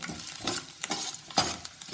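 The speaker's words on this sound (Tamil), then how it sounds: "இப்போ பூண்டும் பச்சை வாசம் போக போக நான் நல்லா வதங்கணும்" Garlic sautés in hot oil in a pan for a curry-leaf garlic kuzhambu, stirred with a utensil: a constant sizzle broken by several short scraping strokes, close up and without speech.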